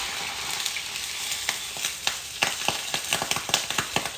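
Guinness marinade hitting a hot pan of slow-cooked beef cheeks, a loud crackling sizzle that builds into rapid spitting pops, close up, with no one talking.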